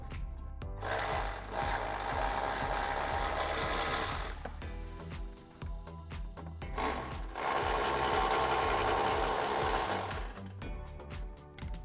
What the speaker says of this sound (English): So now we can take a 15mm socket on a ratchet